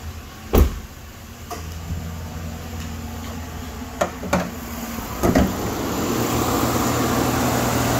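A 2011 Chevrolet Silverado pickup with a rear-wheel-drive 5.3 liter V8 idles steadily with a low, even hum throughout, broken by a few sharp clunks and knocks near the start and middle, like doors or body panels.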